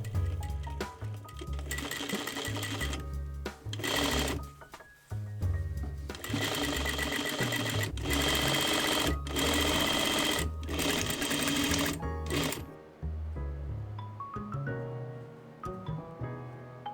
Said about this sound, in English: sew the other side of the bust cup